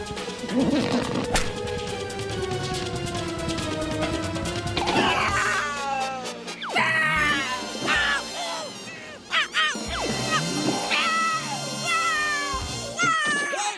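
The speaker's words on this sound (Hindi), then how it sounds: "हमने कालिया बिल्ला को भगा दिया घर" Cartoon cat meowing and screeching in a long run of loud, wavering, pitch-bending yowls, shifting between drawn-out cries and sharp squeals, with no talking.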